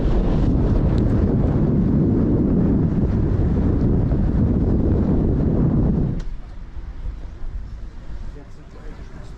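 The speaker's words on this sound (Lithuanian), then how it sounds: "Bet toks didelis vėjas, kad atrodo nuneš nuo šitų akmenų mane." Strong seaside wind buffets the microphone on the breakwater stones with heavy, loud rumbling gusts that drop off sharply near the end, leaving a fainter rush behind.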